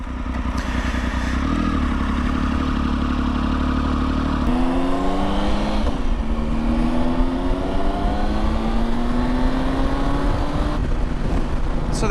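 A Triumph 955i motorcycle cruising at about 50 mph and just over 3,000 rpm, with a steady close engine drone, wind and road noise, and a shift at mid-clip before the revs climb again smoothly.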